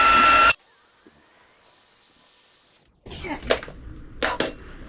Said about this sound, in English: Okay, now we need the heat tool.